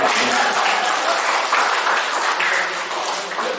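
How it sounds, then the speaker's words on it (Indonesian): A room of teachers at SMA Negeri 2 Abiansemal, a school event, breaks into dense, sustained applause that fills the space evenly for several seconds. "Tepuk tangan untuk"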